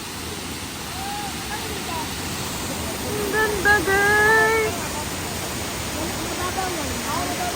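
Steady roar of Engkanto Falls on a road trip in Bicol, a broad continuous rush of falling water that holds constant throughout while a voice speaks excitedly over it midway.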